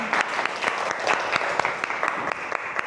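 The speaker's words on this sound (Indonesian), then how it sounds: "beri tepuk tangan untuk kelompok 2" Classroom audience clapping for a student group after its presentation, a brief burst of steady applause with distinct claps over a continuous wash.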